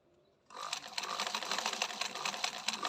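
Sewing machine stitching children's sportswear fabric, starting after a brief quiet moment and then running continuously and fairly loud at close range with a steady rapid clatter, no talking.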